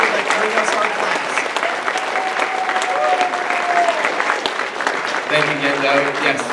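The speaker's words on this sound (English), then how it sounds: "Please give a round of applause for some of the coolest and most educated people that bring us our class." Loud, close audience applause at the Anime Central 2017 convention closing ceremony in Chicago, with a few cheers and voices mixed into the continuous clapping.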